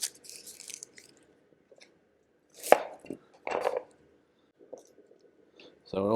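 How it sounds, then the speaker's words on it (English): A kitchen knife dices onion on a cutting board for paella, giving a few separate crisp chopping knocks with pauses between them, close and fairly quiet. "we're going to dice up some onion."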